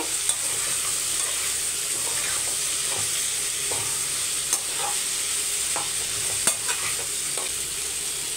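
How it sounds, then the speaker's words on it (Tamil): Radish and tomato sauté over high heat in a pan, a steady close sizzle with occasional scraping stirs and light knocks of a spatula. "நல்லா வந்து கொஞ்சம் ஃபாஸ்ட்டாக வச்சு நல்லா வதக்கி எடுத்துக்கோங்க"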